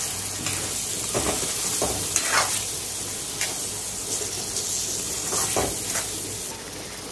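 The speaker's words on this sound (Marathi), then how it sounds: "आता यात मी शिजवलेली चवळी टाकते आणि आता याला सुद्धा मसाल्यासोबत चांगला आपण एकदा मिक्स करून घेऊ" Cooked black-eyed peas are stirred into frying spices in a pan, giving a steady sizzle broken by scraping stirs and occasional clinks of the spoon, close and continuous with no talk.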